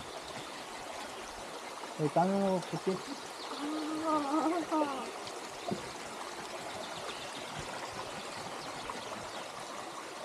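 Kartala waterfall pours with a steady, broad rush of water that runs through the whole scene while people talk and call out nearby over it.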